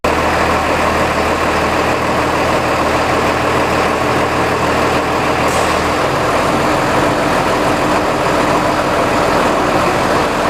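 A tractor engine runs steadily with a dense, loud, continuous rumbling drone that holds the whole time, with no talking.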